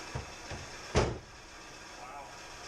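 A car door thumps shut once near the middle, close and fairly loud, with softer knocks before it and quiet shop ambience after, on a classic Chevy small-block car being readied for a first start.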